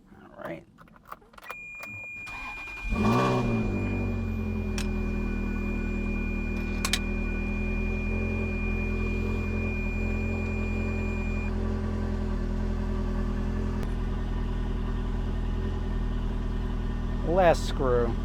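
Ferrari 360 engine cranks and catches after a few seconds of clicks and key jangles, then settles into a steady, close idle with a brief blip near the end; a voice speaks over it.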